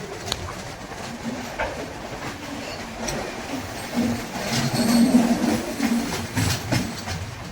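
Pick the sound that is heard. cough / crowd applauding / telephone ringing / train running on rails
train running on rails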